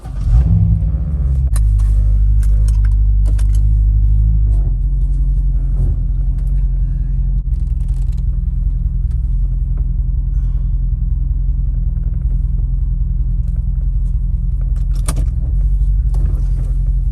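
A 2008 Chevrolet Corvette C6 Z51 starts off and drives around the block at night, heard from inside as a deep rumbling engine that revs briefly and then settles into a steady low drone, with occasional light rattles and clicks.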